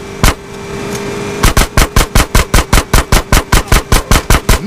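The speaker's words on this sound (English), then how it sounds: "Shoot out the gate!" Rapid automatic gunfire from a GTA San Andreas shootout blasting open a gate: a single shot, a short pause, then a steady, loud burst of evenly spaced rounds.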